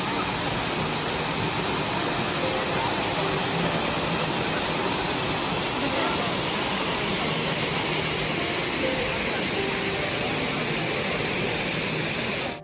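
A crowded waterfall in Coorg sends out a steady, dense roar of rushing water that holds at an even level throughout, with no talking heard.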